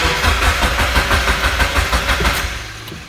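A Mazda Miata fitted with an STM Pro ECU cranks on the starter without catching, a loud, even, rhythmic churning that slows slightly before cutting off.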